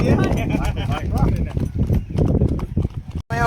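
Hooves of a Marwari mare clip-clop steadily on the way to a seashore, a rhythmic run of close hoof beats under constant talking and other voices.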